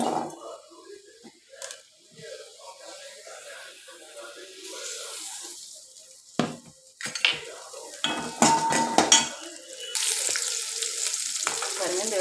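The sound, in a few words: onions being sautéed in oil for brinjal curry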